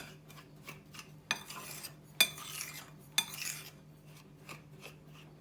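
A utensil scrapes and taps against a bowl at close range while spices are mixed into eggplant, with several sharper clinks standing out from the softer stirring.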